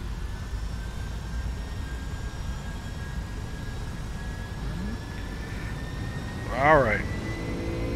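Flight Factor Boeing 757-300 engines in X-Plane 12 spooling up to takeoff power: a steady, loud turbine roar with a slowly rising whine, then a brief chirping sweep near the end.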